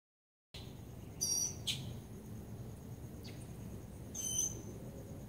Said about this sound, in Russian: Где-то птичка здесь рядышком поет.